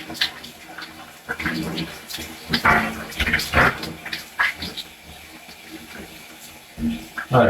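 Water sprays from a hose onto someone taking a warm shower, splashing unevenly in bursts while a voice talks over it throughout.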